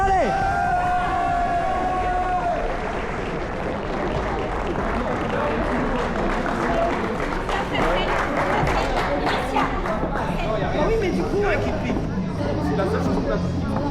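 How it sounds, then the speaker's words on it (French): A crowd at a boxing gala applauding after the first round, clapping and cheering swelling over loud continuous hubbub and chatter in a packed hall, with a voice calling out near the start. "on peut applaudir, premier round"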